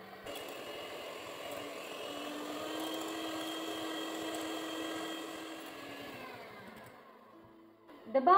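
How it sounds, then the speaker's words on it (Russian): An electric mixer whips eggs, sugar, vanillin and salt in a bowl for a honey sponge cake, a steady whirring drone that holds for about seven seconds, then cuts out and is followed by a couple of brief clinks. "Взбиваем миксером до увеличения в объеме."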